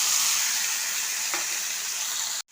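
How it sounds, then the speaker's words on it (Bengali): Boiled onion paste fries in hot oil after lightly fried katla fish was taken out, producing a loud, continuous close sizzle with one faint scrape partway, then cutting off abruptly near the end. "এবার ওই তেলেতে যে পেঁয়াজটা সিদ্ধ করে পেস্ট করে নিয়েছিলাম দিয়ে দিলাম"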